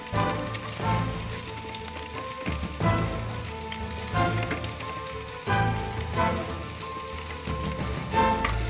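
Onion hitting a hot pan sizzles loudly and steadily in a rustic home kitchen cooking corn and mushroom, a dense frying hiss with occasional stirring scrapes, no talking.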